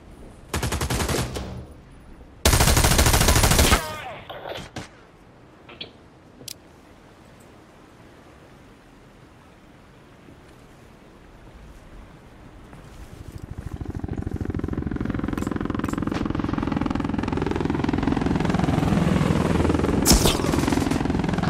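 Automatic gunfire from a multiplayer shooter on the AAPG Bridge map: two loud bursts early on, then scattered single shots, followed by a steady wash of engine and battle noise.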